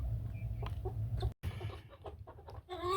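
Chickens cluck and squawk up close in a continuous jumble of calls, with a brief moment of silence partway through.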